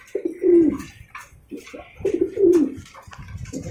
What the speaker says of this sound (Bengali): এইখানে একজোড়া বিউটি আছে, এই যে চমৎকার একজোড়া বিউটি।